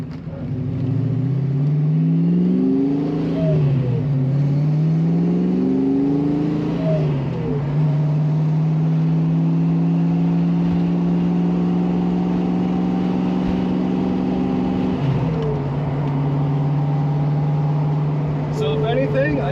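A lowered 5.0 Foxbody Mustang with its exhaust slung low drones steadily from close by, rising and falling as it revs through gears before settling into a long, even cruise.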